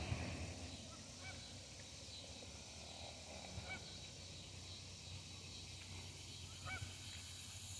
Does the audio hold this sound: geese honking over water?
yes